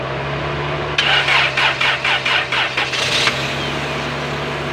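A warm Toyota 4AFE engine with a hard-start fault cranks in a rapid pulsing chug for over two seconds before catching, then settles into a steady idle hum, loud and close.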